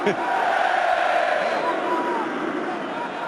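The Watford football crowd at a stadium responds with a loud, sustained collective roar and cheering that holds for a few seconds, broad and distant.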